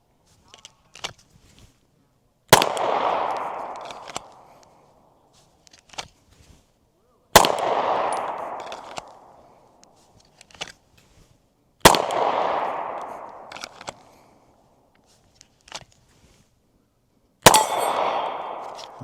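Four handgun shots fired one at a time after drawing from a duty holster, spaced several seconds apart. Each is a sharp, loud crack followed by a ringing echo that fades, with quiet gaps between.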